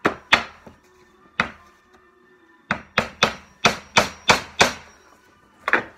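Sharp hammer taps drive in brad nails on wooden drawer guides in small clusters, a few isolated knocks followed by a quicker run of six or seven close, solid hits.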